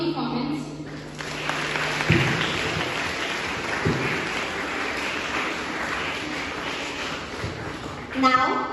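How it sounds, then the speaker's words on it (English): Audience applause at a school National Education Day celebration in a hall, steady dense clapping from a crowd over several seconds, with a voice talking briefly over it at the start and end. "can we have a big round of applause for this amazing performance?"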